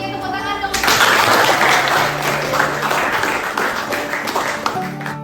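Students and audience applaud after a school project presentation in Bali on turning used cooking oil into useful products. The dense, fairly loud clapping starts suddenly and continues for several seconds over faint background music.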